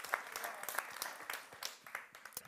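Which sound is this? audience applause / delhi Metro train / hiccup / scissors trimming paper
audience applause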